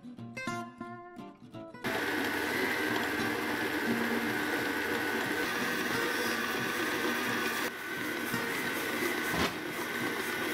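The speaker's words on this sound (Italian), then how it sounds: "Per i nostri biscotti useremo un gancio a uncino che ci permetterà di impastare" A stand mixer fitted with a dough hook kneads coffee and ginger biscuit dough, a steady loud motor whir with rhythmic mechanical clatter running continuously after a brief start-up, close by.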